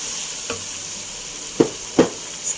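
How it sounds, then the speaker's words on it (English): Prawns, fish balls and fish cake stir-fried in a wok: a steady background sizzle broken by a few sharp scraping clatters of the spatula, close and moderately loud, with no voices. "Stir fry further."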